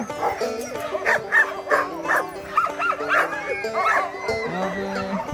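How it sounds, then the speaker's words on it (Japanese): Alaskan Husky sled dogs at a traditional dog sled tour near Yellowknife, Canada, barking, yipping and whimpering repeatedly and excitedly close by, several dogs overlapping in a busy chorus. "これがね、アラスカンハスキーっていうワンちゃんらしいですね。"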